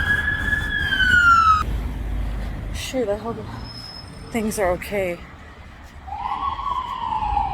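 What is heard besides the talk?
fire truck siren passing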